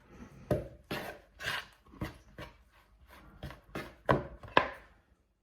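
Pizza dough is worked by spoon and then by hand in a bowl, making about ten close, sharp knocks and slaps at a rough, uneven beat of about two per second, with no talking.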